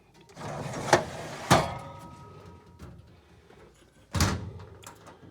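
Storage cabinet drawers in a garage parts-storage setup slide out and shut, giving a few distinct thuds and rolling slides spread over several seconds, close and moderately loud with faint rattling between.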